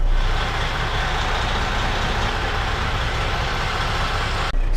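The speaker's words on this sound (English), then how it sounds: "I want to lightly lift up on the clutch to tug against the parking brake to make sure that we don't go anywhere" Truck cab during a CDL Class A pre-trip check, with a steady low diesel rumble as the rig in first gear pulls lightly against the set parking brake, then a brief drop near the end.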